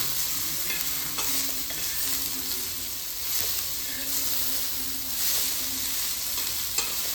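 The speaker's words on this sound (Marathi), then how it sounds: "याला परत आणून आणि याला चांगल्या प्रकारे फ्राय करून घेऊ" Paneer cubes fry and sizzle steadily in a pan at home, with stirring scrapes and a spatula tap or two over a continuous broadband crackle, close and fairly loud without a break.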